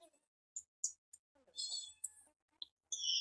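A cat meows several times in short, bright, high calls scattered across a few seconds, with longer drawn-out meows toward the middle and end, fairly close and otherwise quiet.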